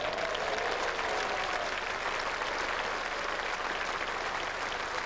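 A cricket crowd at a county championship match between Somerset and Glamorgan gives a standing ovation, with steady, dense applause from many spectators, continuous and fairly distant.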